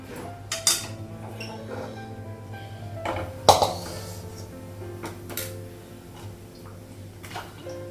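A wok lifted off a kitchen stove after cooking semolina pilaf, with clanks and metallic knocks, one loud bang midway, over a low steady hum, close by.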